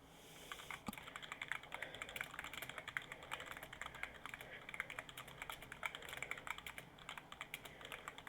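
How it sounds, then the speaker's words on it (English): Steady typing on a computer keyboard during an online tabletop game session at night, a rapid stream of light key clicks running throughout at fairly low level with no talk. "They're still typing."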